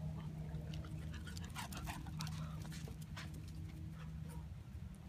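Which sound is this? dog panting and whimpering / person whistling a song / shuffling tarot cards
dog panting and whimpering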